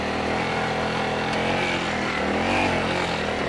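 Honda CRF300L motorcycle engine droning and revving steadily up close as the rear wheel spins for grip on slippery, skatey ground, a continuous loud mechanical roar with no talk over it.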